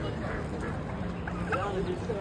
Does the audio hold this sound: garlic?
no